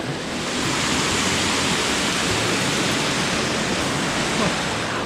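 A waterfall at a Muak Lek glamping campsite gives a loud, continuous rushing roar of falling water, steady and close for several seconds.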